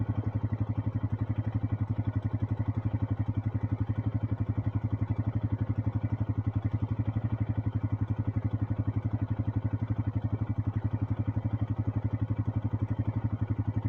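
An International 886 tractor pulls a hay baler in the field, a steady rumbling engine drone with rapid rhythmic clattering running unbroken throughout, loud and close with no pauses.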